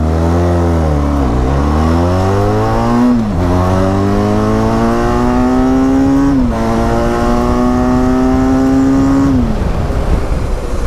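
Benelli TRK 502 motorcycle engine revving hard, its pitch climbing steadily and dropping sharply at each of three gear changes, loud and close throughout with no talk.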